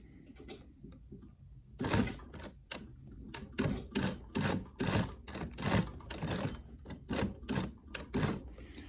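An upholstery sewing machine stitching a custom truck seat panel, running in short bursts of rapid mechanical thumping, then slowing to single stitches near the end, close by and without talk.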